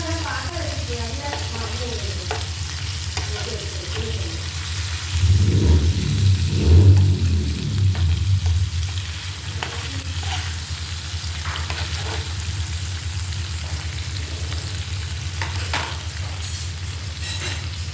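Food frying in a pan at a steady close sizzle, with a louder burst of scraping and turning against the pan midway, likely an attempt to flip it using the edge of the pan; no voices are heard.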